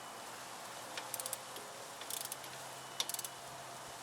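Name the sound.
torque wrench tightening strut-to-knuckle bolt on Nissan Sentra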